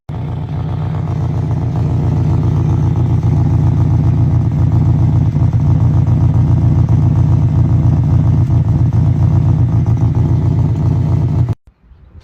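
A Honda Civic EK engine with a blown exhaust resonator revs up and holds, giving a loud, close, raspy drone with a strong pulsing buzz that stays steady until it stops suddenly at the end.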